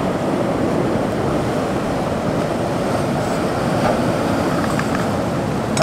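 Heavy rain falls on the California coast during a crab cook-out, making a steady, loud, unbroken hiss that fills the whole scene with no voices.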